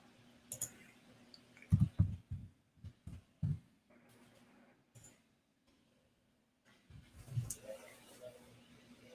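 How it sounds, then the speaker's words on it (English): Keys clatter on a computer keyboard in irregular clusters of quiet taps, with pauses between the groups, close by in an otherwise quiet room. "I'm typing some trade ideas up right now."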